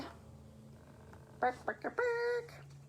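A person mimics a chicken with a few short clucking bursts followed by a longer sustained squawk, loud and close against a quiet room.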